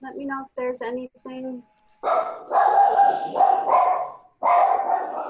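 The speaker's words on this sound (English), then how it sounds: "I was just going to say thank you, but the dog started barking." A pet dog barking indoors, a run of sharp barks up close that follow a woman's speech and cut across it, loud and repeated.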